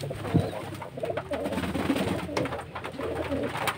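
Pigeons coo in soft repeated calls during rain, with low rolling coos near and far over a constant wet background hiss.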